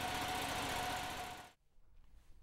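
A tow-behind blower's small engine runs loudly and steadily with a dense mechanical roar, then cuts off abruptly, leaving faint background noise.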